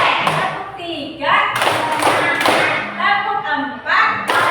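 A primary classroom of children claps a teacher-led rhythm, the first clap pattern. Several loud, sharp group claps come in bursts, with voices of the teacher and children around them.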